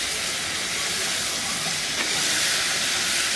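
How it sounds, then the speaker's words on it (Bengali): Vegetables frying in a pan for a vegetarian Thakurbari-style dal, a steady dense sizzle and hiss held at an even level throughout, close and continuous with no talking. "পানি ছাড়লে পানির মধ্যে এটাকে আর একটু ভেজে নিব"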